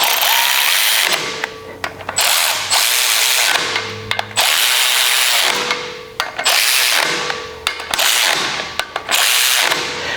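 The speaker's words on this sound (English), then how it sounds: "I'm going to lightly run these down with my my electric ratchet" A handheld electric ratchet runs down bolts on the front brakes of a 100 Series Toyota Land Cruiser, giving several loud, close bursts of whirring separated by short pauses, with ratcheting clicks as each one stops.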